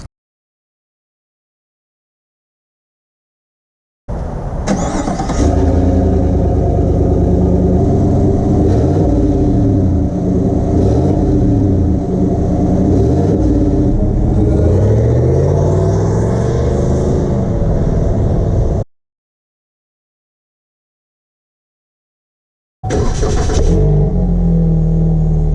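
A 2020 Chevy 1500 with a 5.3L V8 rumbles and revs through a new exhaust, a loud, close, sustained engine roar that rises and falls, cuts off abruptly, then restarts briefly after a gap of silence.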